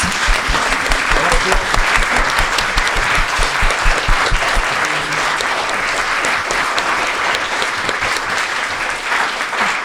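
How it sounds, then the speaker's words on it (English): Loud, sustained applause from a large crowd, with steady clapping filling the whole stretch and a few voices mixed in. "Can we just get an enormous round of applause?"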